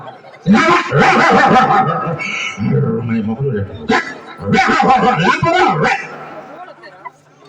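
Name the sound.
voice imitating village dogs barking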